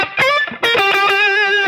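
Aggressive slow blues lick in G on a distorted electric guitar, played alone: a short bent phrase, a brief gap, then sustained, singing bent notes with heavy overdrive, loud and close.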